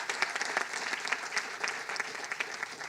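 An audience applauds at a Los Angeles Clippers press conference: dense, steady clapping from a crowd, fairly close and sustained throughout.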